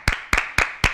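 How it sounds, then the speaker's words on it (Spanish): Four sharp, evenly spaced claps in under a second on a Spanish-language TV show, close and crisp, with no voices. "Un aplauso."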